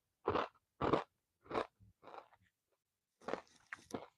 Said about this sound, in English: Let me know if that chewing gets loud